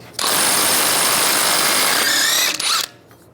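A power tool, likely an impact wrench with a 12.30 mm socket, spins an axle nut off a 1998–2010 Volkswagen Beetle in one loud, steady burst of nearly three seconds, with a brief whine near the end before it stops abruptly.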